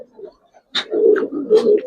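Giribaz jabra pangkhi pigeons at a seller's coo in a few close, low, throaty bursts after a brief quiet start, standing alone without talk.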